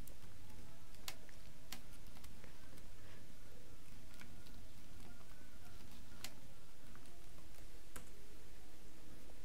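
Keys on a Mac keyboard click in an uneven run of light taps with short pauses between, faint against a steady background hiss.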